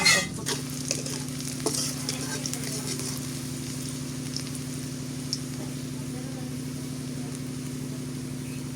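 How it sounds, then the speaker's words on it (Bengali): Fish frying in heated oil for a gourd-and-fish dish gives a loud, steady sizzle that runs unbroken from start to finish, with faint clinks of stirring over it. "মাছ ভাজি করছি তো সেই তেল জ্বালা দিয়ে দিলাম"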